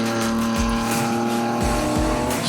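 BMW M Performance Parts race cars in a Class D circuit race, engines screaming at high revs as they battle closely through the corners, a steady loud roar with brief tyre squeals and shifting engine notes throughout.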